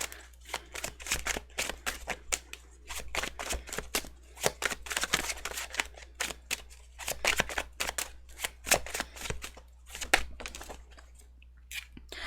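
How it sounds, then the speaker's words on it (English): Tarot cards are shuffled repeatedly in quick riffling bursts, close and crisp, with brief pauses between handfuls. "I'm going to shuffle."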